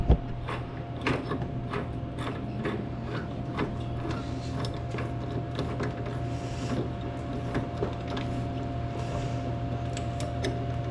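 A soda vending machine being shut up, giving a steady mechanical hum with repeated clicks, ratcheting and sliding metal clatter close by, moderately loud throughout.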